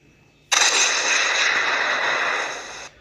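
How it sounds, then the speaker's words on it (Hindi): A sudden loud cartoon explosion in a kitchen erupts and holds as a broad, roaring blast for about two seconds before cutting off abruptly. "तभी इधर रसोई से जोरदार धमाके की आवाज़ आती है।"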